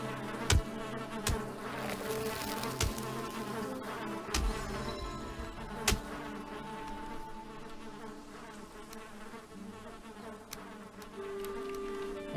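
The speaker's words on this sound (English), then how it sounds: "See that? That's a beehive." Beehive in the Valheim video game, a continuous insect buzz with layered droning tones, joined by occasional sharp clicks and thuds from game actions, steady and moderately loud.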